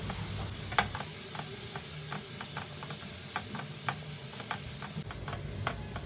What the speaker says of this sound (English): on medium flame we will saute the onions till they turn golden brown